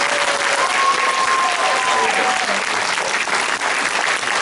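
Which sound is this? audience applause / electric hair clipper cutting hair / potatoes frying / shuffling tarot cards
audience applause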